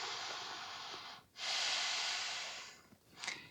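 Yoga breathing practice: a long, airy exhale through the nose or mouth is heard close and clear, then a brief pause and a second, louder sustained exhale, ending with a short soft breath.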